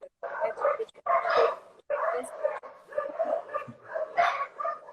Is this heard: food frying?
no